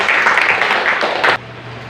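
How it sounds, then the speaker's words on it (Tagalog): Congregation at a church preaching service giving loud applause, a dense burst of many hands clapping that swells and then cuts off abruptly, leaving a low hum. "Isa pong malakas na palakpak sa ating Diyos."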